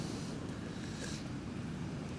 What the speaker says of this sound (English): Waves are just crazy.